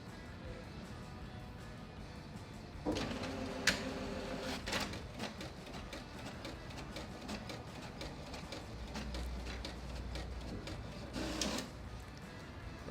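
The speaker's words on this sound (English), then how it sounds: "now let's print. So for this, we're going to be doing two tests. The first test is we're going to just be printing a text document" An inkjet-style printer runs a text document onto PaperOne all-purpose paper, whirring and clicking with mechanical bursts of carriage movement and a low motor hum, steady and close throughout.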